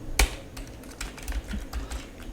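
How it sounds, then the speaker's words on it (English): Quick, uneven keystrokes on a computer keyboard, close and clear, clicking in short clusters with brief gaps and no voices. "typing"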